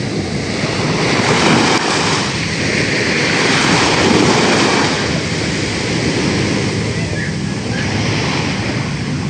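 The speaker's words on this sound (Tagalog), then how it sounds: "Natibag na po ng alon. Dahil sobrang lalaki po ng alon." Large ocean waves crash loudly against the seashore beside a concrete wall, a dense continuous roar of surf with heavy wind noise and swelling, surging rushes across the whole stretch.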